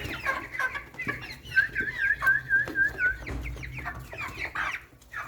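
A flock of Light Brahma chickens, roosters and hens, clucks and murmurs nearby, with a short run of high chirping calls in the middle over a busy farmyard background.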